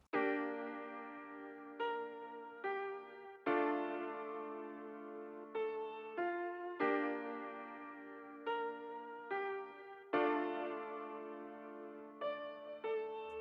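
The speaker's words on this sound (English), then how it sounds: "And now the piano sounds like this." Piano chords run through a Guitar Rig Vocal Space preset and EQ that cuts the lows below about 110 Hz, in a dark, moody UK drill beat. Sustained, reverberant chords change every second or two with no talk over them.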